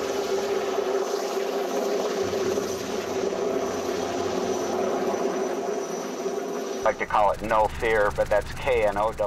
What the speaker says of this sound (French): l'hélicoptère remonte vers le camp d'altitude avec du matériel de sauvetage et des vivres